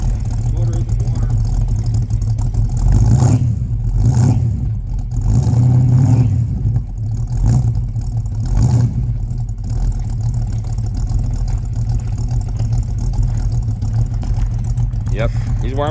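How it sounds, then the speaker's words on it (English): A warm 1966 Ford Mustang coupe's 289 V8 with automatic transmission idles with a deep low rumble and swells in a few revs, loud and close, while a person talks over it. "I'll just do a little rev clip."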